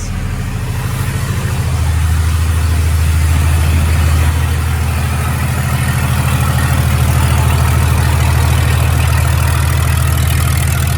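A naturally aspirated 24-valve 5.9 Cummins diesel cranks and fires up inside a shop, then settles into a loud, close, steady rumbling idle.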